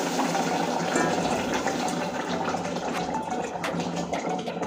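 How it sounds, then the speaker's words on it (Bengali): Baim fish curry with papaya and potato is poured into hot spice tempering, making a continuous sizzling, rushing hiss that holds steady and close for the whole stretch. "এবার বাইম মাছের তরকারিটা এবার ফোড়নে ঢেলে দিচ্ছি।"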